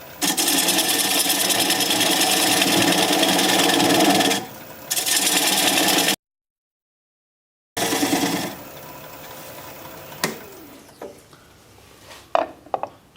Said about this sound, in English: So I'll turn the speed up to about 600 RPM and grab this 3/8 inch standard grind bowl gouge and begin to remove the tenon.